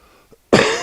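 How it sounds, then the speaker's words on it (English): A single sharp, close cough from an older man bursts out after a faint throat sound, loud and abrupt, with no talk over it. "Grandpa's got a cough today."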